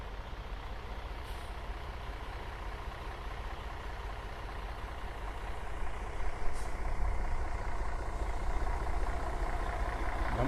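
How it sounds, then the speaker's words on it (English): Dump trucks rumbling in with a load in a residential neighborhood in Naples Park, North Naples, Florida: a steady low engine drone heard from some distance, growing slightly louder midway, with faint brief hisses. "Dump trucks bringing in a load here."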